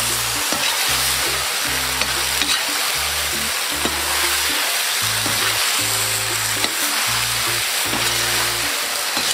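Chunky-cut potatoes dropped onto sautéed onion and carrot in a hot pan, a loud, steady close sizzle of frying under continuous music, with no talking.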